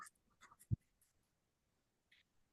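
Chalk or a marker scratches briefly on a classroom board during a math lesson. There are a few faint, short strokes and one soft tap, then quiet.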